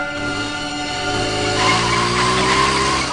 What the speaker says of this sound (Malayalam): ആ ആക്സിലേറ്ററെ പതിയെ ഒന്ന് തിരിക്ക